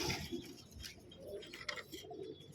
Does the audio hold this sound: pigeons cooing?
yes